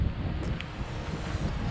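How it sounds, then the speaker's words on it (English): Strong, steady wind rushing through forest trees at a backcountry campsite in Algonquin Provincial Park, a continuous broad roar with gusty buffeting against the microphone and no voices. "It's windy as hell, it's actually cold."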